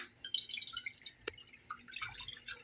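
A quarter cup of liquid poured into a dish while cooking a quick dinner, heard as a soft close splash and trickle with drip-like spatters, fairly quiet and without speech.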